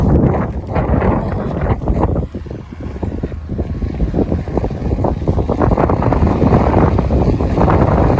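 Strong, cold spring wind roars continuously into the microphone at a rice field in Japan, a loud buffeting rumble with gusts that dip briefly and then surge back.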